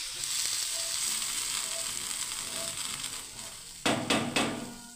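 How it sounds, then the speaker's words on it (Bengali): Water hits a hot pan of mung dal kofta curry, setting off a steady hissing sizzle close by, followed near the end by a few sharp clanks of utensils against the pan. "এবার আমি জল দিয়ে দিচ্ছি বন্ধুরা পরিমাণ মতো।"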